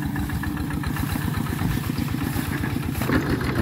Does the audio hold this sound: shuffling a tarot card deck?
no